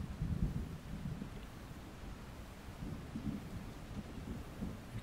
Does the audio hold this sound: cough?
no